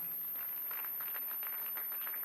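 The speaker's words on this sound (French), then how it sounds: "Est-ce que nous pouvons applaudir pour Aïcha?" Faint, distant applause from an audience at a women's event honoring the artist Aïcha Keïta, a soft steady patter of many hands lasting a couple of seconds with no voices over it.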